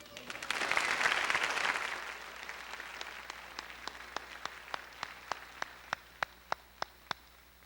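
A burst of crowd applause at a high school graduation ceremony swells and fades, giving way to a few slow, isolated claps that continue alone near the end.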